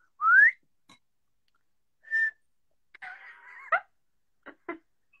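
A person whistles a few short notes: a rising whistle, a brief steady tone, then a longer held note, separated by pauses with faint mouth sounds.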